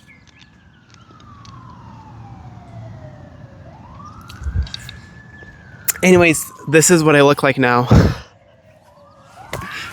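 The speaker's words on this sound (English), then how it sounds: "can the sirens go away?" A siren wails outside, sweeping down and then rising again at moderate distance. Someone speaks close by partway through, and the siren resumes under her voice.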